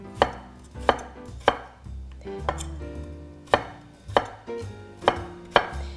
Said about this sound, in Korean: 감자도 한 1cm 크기로 이렇게 썰어 주시면 돼요